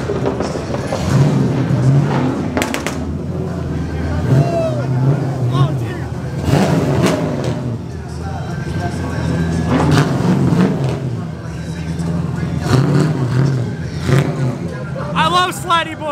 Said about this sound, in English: These guys got full-blown drift cars pulling up,